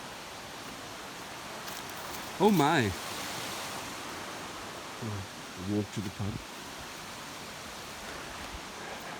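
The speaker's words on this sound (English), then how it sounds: "Let's have a look at the river." A river flows near Llanbedr in South Wales, its steady wash heard close throughout, while a person speaks briefly twice over the running water.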